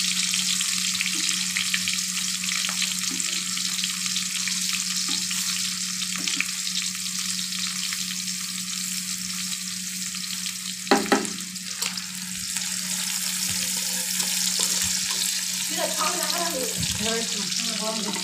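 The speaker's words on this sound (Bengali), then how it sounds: "পেঁয়াজটা একটু ভাজা ভাজা হয়ে আসুক।" Chopped onion sizzles steadily in oil in a wok with cumin seeds tempered in it, a constant bright frying hiss with occasional spoon stirs and a few clinks, running throughout at close range.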